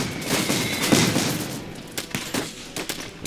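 Rapid crackling bursts of mech gunfire from a tank mech in the World War strategy game Iron Harvest, a dense fusillade that swells then breaks into sharper separate shots over a busy battle background.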